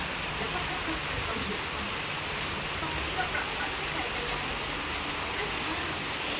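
Heavy rain pours down at night in Bangkok, a dense, steady hiss of water on surfaces that stays constant throughout.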